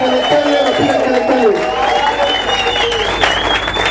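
A church congregation applauds and cheers for the Lord, with dense clapping and raised voices swelling together over a continuous crowd roar.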